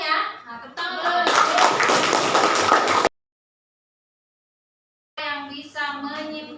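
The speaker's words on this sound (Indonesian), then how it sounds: "tepuk tangan" A class of schoolchildren claps for the best group in an Indonesian classroom lesson: a dense burst of hand clapping lasting about two seconds, with a teacher's and children's voices speaking before it and again after a pause of silence.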